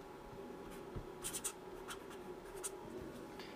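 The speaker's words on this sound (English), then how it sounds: "I'm going to write it down." A pen scratches across paper as a waveform measurement is written down by hand, making quiet, close strokes in short clustered bursts.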